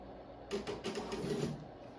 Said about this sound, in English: when I tapped on test print, you heard a sound